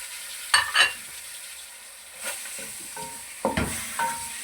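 Chicken pieces drop into ghee in a pan for green chicken roast, giving a few bursts of sizzling and spoon clatter between quieter stretches, close by with no talk.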